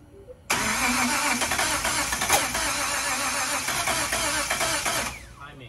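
A Datsun 240Z with a freshly installed L28 engine cranks and fires, then runs loud and steady close by for several seconds before cutting off abruptly near the end.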